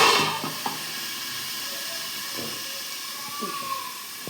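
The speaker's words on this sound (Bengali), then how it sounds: "আর একটু ভাজা ভাজা হয়ে যাক" A soft, continuous hiss of food frying in a pan, with a few faint knocks and clinks.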